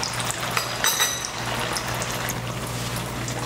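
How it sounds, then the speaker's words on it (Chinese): Golden crispy-crusted tofu pan-fries in oil, making a steady sizzling, bubbling crackle with small pops, close up and alone. "翻面以后再炸3分钟"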